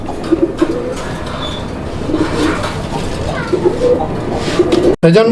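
Raj-golla pigeons for sale coo in a low, repeated rhythm alongside a busy background of a dealer's market, with someone talking over them; the sound cuts out briefly near the end.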